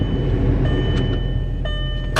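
A cheap car bought to flip idles while warming up, its cylinder 1 and cylinder 3 ignition coils faulty; a steady, close, low engine rumble runs throughout with a few faint higher whines on top.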